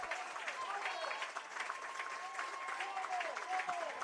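A crowd at a high school baseball game in Tullahoma cheers and claps steadily at a distance, a broad wash of noise under a commentator talking.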